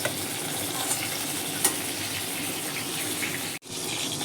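Pointed gourd pieces stirred and lifted out of sizzling frying oil, a steady close hiss of frying with faint scraping and one brief clink, the sizzle dropping out sharply for an instant near the end.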